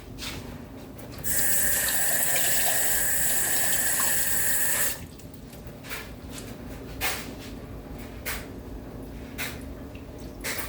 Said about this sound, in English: I'm just gonna put some water in that pan.